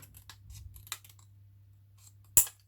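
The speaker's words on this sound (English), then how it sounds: "you're just literally going to trim that off" Scissors trim overlapping paper on a pop-out card piece, a series of quiet snips ending in one sharp, louder cut.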